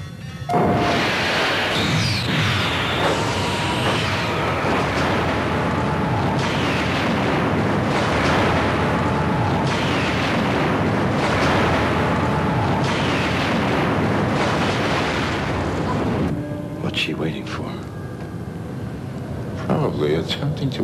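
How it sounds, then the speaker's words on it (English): Star Trek starship weapons firing on the Chancellor's ship, a loud rumbling barrage of repeated booming blasts and explosions in dense bursts, with spoken voices and crackling effects near the end. "Attempting to ascertain why we have fired on the Chancellor's ship."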